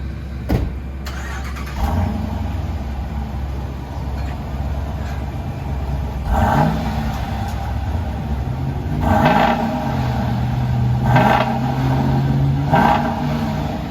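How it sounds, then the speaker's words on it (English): A Dodge Durango R/T engine breathes through Flowmaster Outlaw exhausts with the rear mufflers kept, rumbling steadily up close with several short revs that rise and fall. "Flowmaster Outlaws, and we kept the rear mufflers in there."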